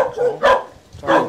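A dog barks twice, loud and close, with short sharp yelps separated by a brief pause.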